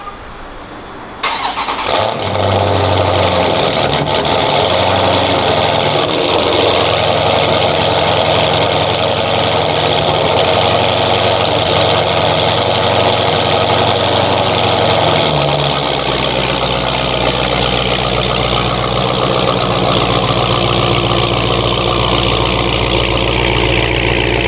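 A car engine starts with a sharp burst, then idles loudly through a very loud exhaust with a steady deep rumble that shifts lower partway through, close up and continuous.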